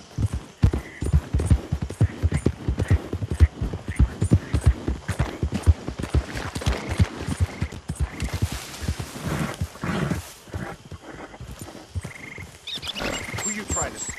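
A horse gallops in Red Dead Redemption 2, its hooves drumming in a fast, steady clip-clop rhythm that stays close and loud. Midway the hoofbeats loosen and fade into a broader outdoor wash.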